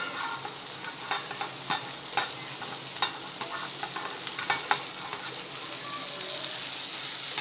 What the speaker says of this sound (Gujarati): એટલે હવે એમાં કોબીજ એડ કરી દઈશું।